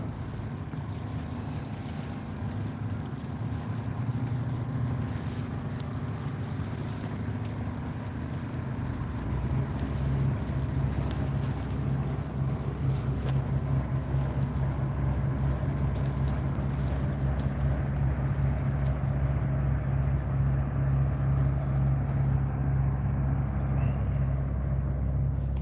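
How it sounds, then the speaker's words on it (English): A motorboat drones steadily as it moves through water, engine hum growing louder partway through, with wind buffeting and water rushing alongside. "Just from the waves from the boat."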